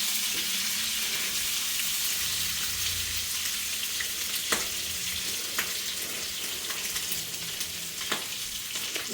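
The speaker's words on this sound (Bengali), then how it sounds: "মাংস জাল দিয়েছে, এখন সেটা ভাজছে" Boiled Eid qurbani meat fries in a pan with a loud, steady sizzle. It runs unbroken throughout, broken only by a few sharp clicks of stirring.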